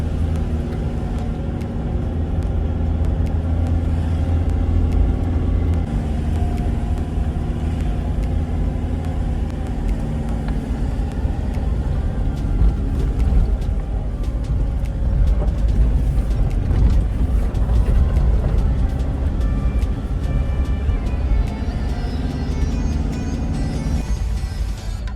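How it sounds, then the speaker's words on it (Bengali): Car engine labouring in low first or second gear up a very steep, high mountain road near Sittong, a steady loud droning rumble throughout with no talk. "গাড়ি 1 নম্বর 2 নম্বর গিয়ার ছাড়া টানতে পারছে না, প্রচুর উঁচু, প্রচুর খাড়া"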